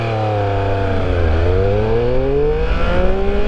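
A 2021 Triumph Speed Triple 1200 RS motorcycle launches from 0 to 100 with its front wheel lifted, its engine note climbing steadily in a loud, close, unbroken run with no talk.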